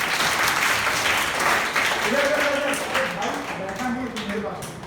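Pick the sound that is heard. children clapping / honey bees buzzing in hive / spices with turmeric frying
children clapping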